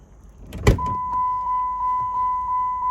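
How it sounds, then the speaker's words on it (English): A car's warning chime dings repeatedly at an even pace, a clear single-pitched tone sounding about every third of a second after a brief thump and rustle, with no one talking. "you hear that dinging?"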